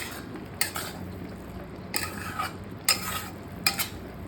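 Utensil scraping and stirring in a pan as onion, tomato and vegetable masala are mixed, with four short bursts of clatter spread across a quiet background.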